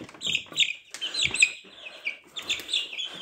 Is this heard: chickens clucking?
yes